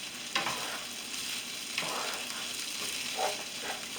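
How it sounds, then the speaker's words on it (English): Fried rice with chicken and vegetables sizzles softly in a pan, with a few distinct scraping strokes of stirring over a faint steady hiss and no talking. "Make sure you get a good stir."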